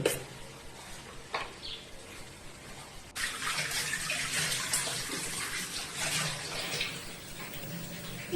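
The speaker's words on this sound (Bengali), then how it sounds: "এবার আমি অল্প পরিমাণে বেসনের মধ্যে জল দিয়ে বেসনটি পাতলা করে গুলে নেব।" Water is poured into gram flour batter for a Bengali banana-flower chop, a soft running gush that grows steadier and brighter partway through and continues to the end.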